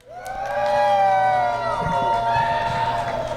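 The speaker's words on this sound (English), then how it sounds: "Hey, crowd, make some noise." The crowd at a GMHL hockey all-star game cheers and whoops loudly, a sustained roar of voices rising quickly and holding, with shouts above it and someone talking over it.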